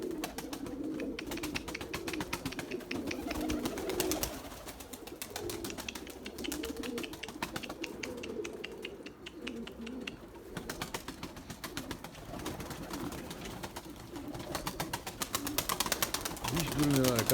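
Pigeons coo in low, soft, repeated calls near a coop, with a person talking over them and fluttering rustles throughout.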